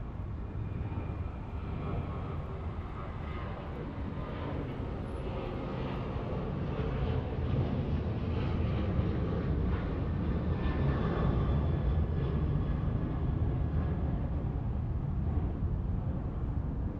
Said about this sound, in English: That was Alaska Flight 1418 in the Star Wars livery